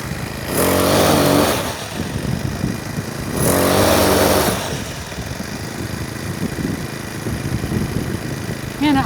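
Small two-stroke engine of a Troy-Bilt TB6044XP weed trimmer with a freshly replaced carburetor, idling steadily up close, rising in two short louder bursts before settling back to an even idle.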